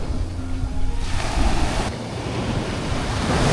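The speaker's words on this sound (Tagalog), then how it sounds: "Ang lalaki ng alon no." Large ocean waves break at Dahican beach in Mati, Davao Oriental, as a loud, continuous rushing surf roar mixed with wind noise on the microphone, with no talking.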